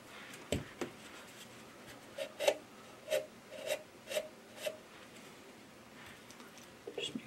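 Pencil lead graphite rubbed into the nut slots of a Gretsch New Yorker mandolin: a close series of about half a dozen short, scratchy rasping strokes in an even rhythm, with no voice.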